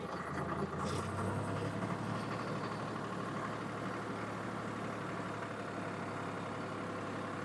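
A tractor engine runs steadily during a driving lesson, a constant low rumbling drone heard close up with a brief brighter clatter near the start.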